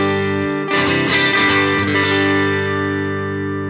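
Electric guitar through a Yamaha THR practice amp on its clean setting rings out as a sustained strummed chord with a few picked accents, loud and alone, slowly decaying with a steady hum underneath.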